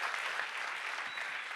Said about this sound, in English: Big applause for Guillermo